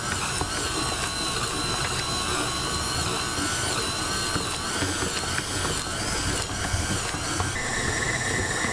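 A mixer kneads cinnamon roll dough with a steady, loud mechanical whirring and grinding that runs without a break.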